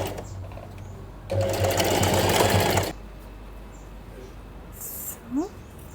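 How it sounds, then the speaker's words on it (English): A sewing machine stitches a seam on a dress, one steady whirring run of about a second and a half, close by, with quiet room noise before and after. "And then we can sew it here on one side, around 5 millimeters here"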